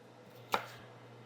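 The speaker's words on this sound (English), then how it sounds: "I'm just going to follow the lines of the onion, making slices." A single knife stroke slices through a large onion on a cutting board, one sharp, quiet chop standing out against a faint steady hum.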